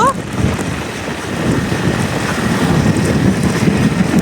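Cold wind blowing steadily in hilly Surkhet, Nepal, a constant broadband rush buffeting the microphone for the whole stretch, loud and close with no voices over it.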